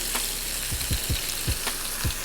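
A stuffed chicken breast frying in a skillet gives a steady, close sizzle, with several low soft thumps and pops rising at irregular intervals.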